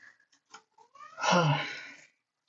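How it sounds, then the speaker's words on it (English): A cat lets out a drawn-out, wheezy meow after a few soft clicks and faint sounds, close and fairly quiet. "Sorry if you could hear my cat mewing."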